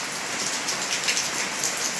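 Heavy rain falls steadily on potted garden plants outdoors, making a dense, continuous hiss with scattered droplet patter close by.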